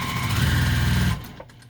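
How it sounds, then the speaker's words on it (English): A sewing machine stitches down the long edge of a fabric surgical-style face mask, a steady close mechanical whir that runs for about a second before stopping abruptly. "So now you're sewing down the long edge and sew about 1/3 of the way down."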